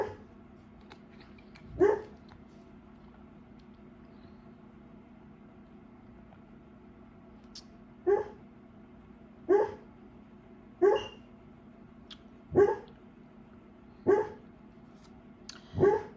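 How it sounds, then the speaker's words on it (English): A pit bull terrier barks in its sleep, single muffled woofs spaced irregularly, one early and then a run of six more every second or so, over a steady quiet room hum. "both the twin pit bull terrier dogs are asleep right now. So he's just barking in his sleep."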